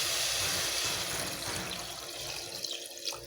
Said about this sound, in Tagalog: Nagyan ko na ng tubig.